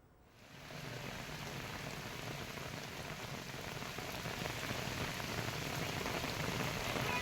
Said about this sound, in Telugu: నిన్న సాయంత్రం నుంచి ఎడతెరిపి లేకుండా కురుస్తోంది వాన.